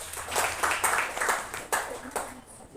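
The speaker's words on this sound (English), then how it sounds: "Let's give her a round of applause." Classroom applause during a teaching demonstration, a short burst of scattered hand claps from a small group, uneven and moderately close, with voices mixed in.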